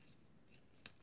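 A single quick snip of scissors cutting paper for a handmade greeting card with a wooden stamp design, one crisp sharp cut near the end of an otherwise quiet moment.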